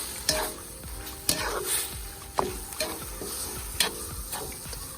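Cubed meat and large bone-in veal pieces stirred and frying in a pot for dumpling soup, a steady sizzle broken by about five sharp spoon knocks and scrapes against the metal, with no talk.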